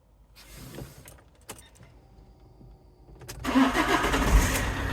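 A diesel car engine cranks and catches, then runs with a loud, rough, steady rumble after a few quiet seconds of faint clicks and whirring.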